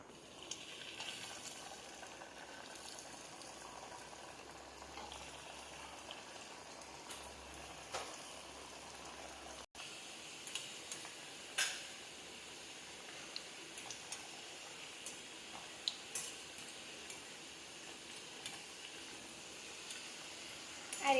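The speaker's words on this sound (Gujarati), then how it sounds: "આ રીતે આપણે મુઠિયા ફેરવીને તળી લઈએ" Wheat-flour muthiya dumplings fry in hot oil with a faint, steady sizzle dotted with small crackles and pops that grow more frequent later on, with no voices.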